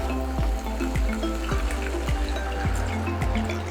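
Water pours into a pot of beef and carrots coated in tomato paste, giving a close, continuous splashing and gurgling with a faint sizzle underneath and a run of repeated bubbling pulses.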